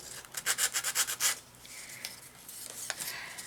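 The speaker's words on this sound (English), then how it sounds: "Where's my sanding paper? I think I need a little bit." Quiet sandpaper scraping back and forth in a quick burst of about eight strokes, then a few softer, scattered rubs, close up with no talking.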